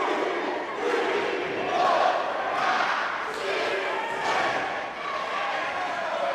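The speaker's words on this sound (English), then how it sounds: "Crowd counting along with him." Wrestling event crowd chanting in unison, counting along in several rhythmic swells of voices, loud and reverberant in an arena, with commentators talking over it.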